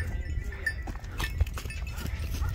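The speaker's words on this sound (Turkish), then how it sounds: "Abi koyun geliyor." A flock of sheep approaching on a road near Gelibolu, Çanakkale, with scattered bleats and the jingle of bells over shuffling hooves, fairly faint and close by.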